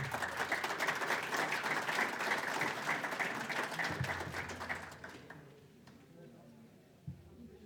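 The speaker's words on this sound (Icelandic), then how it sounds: "Gjöru gott klapp." Audience at an Icelandic rescue-equipment presentation applauds in a lively burst of clapping that holds for about five seconds, then fades away into quiet room tone with a soft thump.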